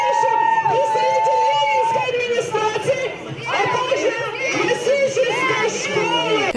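Fans at an amateur ski race shout and cheer loudly, a close mix of excited voices and high-pitched yells with crowd chatter throughout.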